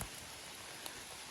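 Steady, faint patter of rain falling, a soft continuous hiss with a few individual drops.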